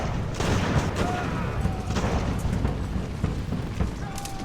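Naval cannon broadsides in Ultimate Admiral: Age of Sail, a dense rolling rumble of booming guns with scattered sharper reports, continuous and heavy throughout.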